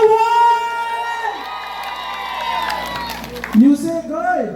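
A party crowd cheers, whoops and shouts over loud background music at a late-night gathering in Lavezares, Northern Samar, with a few claps and voices mixed in; the noise stays steady and close for several seconds.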